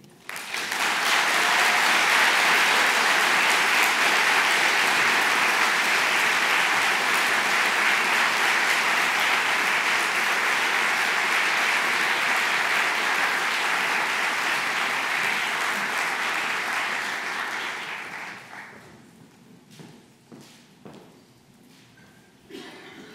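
A conference audience at the 2020 Cardinal O'Connor Conference gives keynote speakers a long, loud, steady ovation that fades after about eighteen seconds into a few scattered claps and quiet room noise.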